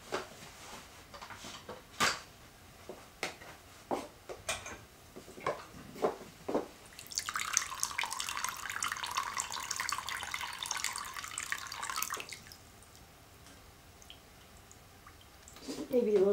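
Hot water runs from a tap for several seconds as a steady broadband hiss, preceded by scattered knocks and clicks and ending with a brief sound.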